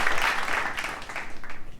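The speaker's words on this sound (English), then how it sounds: "give this man a round of applause" Brief burst of applause from an audience, a dense, moderately loud patter of clapping that holds steady for under two seconds and thins slightly at the end.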